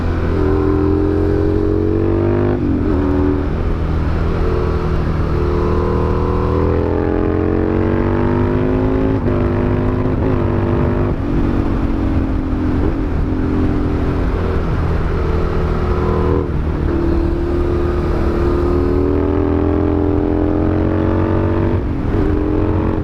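Supermoto motorcycle engine idling and revving steadily nearby, with several short throttle blips lifting the pitch over a continuous loud drone lasting the whole stretch.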